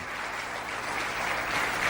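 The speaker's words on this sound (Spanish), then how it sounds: "Yo creo que el Señor se merece un fuerte aplauso porque Dios es buenísimo." A church congregation claps steadily and fairly evenly, a dense wash of applause that swells slightly toward the end.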